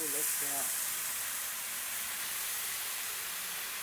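Skirt steak sizzles on a Blackstone 36-inch propane griddle, a steady broadband hiss running the whole time, with brief voices near the start.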